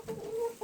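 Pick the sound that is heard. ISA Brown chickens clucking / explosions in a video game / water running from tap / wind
ISA Brown chickens clucking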